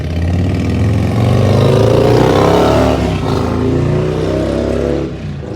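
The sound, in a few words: neighbor's motorbike going by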